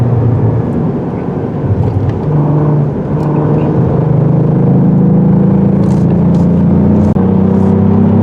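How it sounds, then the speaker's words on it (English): A 2022 Cadillac CT4-V Blackwing turbo engine and exhaust in track mode on the road, giving a loud continuous low drone that rises in pitch as it accelerates, heard from inside the car. "right now I have it in the track mode so we can get the suspension pumped up and the exhaust sound the way I want it"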